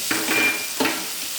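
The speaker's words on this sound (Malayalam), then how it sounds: "വെജിറ്റബിൾസ് എല്ലാം ഇട്ടിട്ട് ഒരു അഞ്ച് മിനിറ്റ് ഞാൻ വഴറ്റിയേ" Vegetables sautéing in a pan for vegetable biryani hiss steadily while a utensil makes a few distinct stirring scrapes, close and moderately loud.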